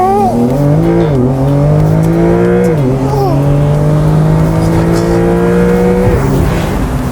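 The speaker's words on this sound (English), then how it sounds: "I just turn this to Sport Plus, foot on the brake, foot on the grass, launch control activated." A 2022 Porsche 911 Carrera 4 GTS Cabriolet with a twin-turbo flat-six launches hard under launch control. The loud, close engine note climbs steadily, dipping briefly at each of several quick upshifts, and keeps pulling to the end.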